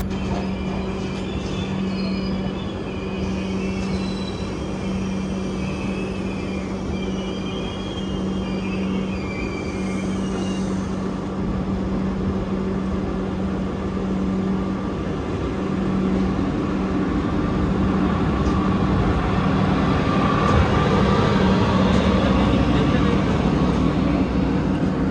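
The Rani Kamlapati–Mysuru summer special express runs at speed, heard from inside as a loud, continuous rumble and clatter of wheels on track. The roar grows slightly heavier toward the end.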